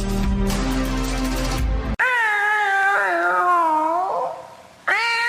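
A cat meows in a long, wavering cry, then gives a second short meow after a brief pause; clear and close, following a burst of music.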